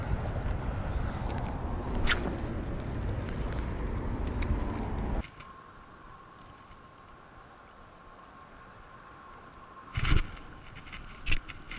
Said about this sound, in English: Wind is actually starting to pick up a little bit.